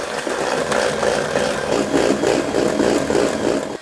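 Electric stand mixer whisking egg whites and sugar at full power for a meringue, a steady loud mechanical whir with slight rhythmic wobble, continuous and close, with no talking.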